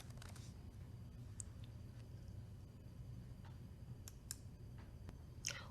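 Faint, scattered clicks from a computer keyboard as a search term is typed, irregular and soft against a quiet hiss of room noise, with a small cluster of keystrokes near the end.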